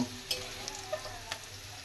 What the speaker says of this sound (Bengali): খুব সুন্দর করে আমি নুন আর হলুদ দিয়ে আলুটা ভেজে নেব